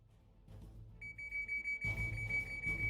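A steady, rapid electronic alarm beep from a video game with exploding barrels, pulsing at an even rhythm and speeding up partway through, with game background hum beneath.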